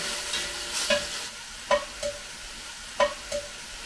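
Beef browning in butter in a hot pan over medium-high heat, a steady close sizzle broken by a few sharp utensil scrapes and taps at irregular intervals.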